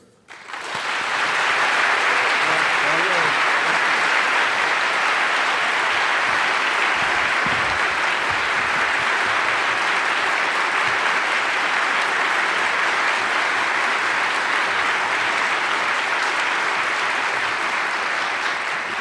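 Sustained, dense applause from an audience at the Westminster Town Hall Forum welcomes the Reverend Dr. Otis Moss III, a loud and steady roar of clapping lasting nearly twenty seconds after a sudden start.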